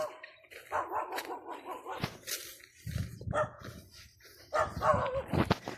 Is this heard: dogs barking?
yes